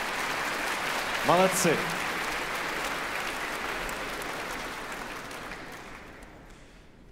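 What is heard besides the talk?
audience applause as brass ensemble leaves the stage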